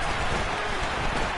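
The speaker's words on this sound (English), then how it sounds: "The rain set to continue as we are underway in the second half." Steady rain pours during an outdoor football game, a dense, even wash of noise with no breaks.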